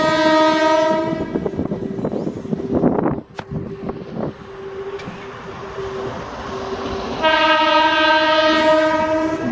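A passing train hauled by a WDG6G locomotive from the Gooty shed sounds its horn in long loud blasts at the start and again near the end, with rolling wheel and carriage rumble between, at Mahbubnagar railway station.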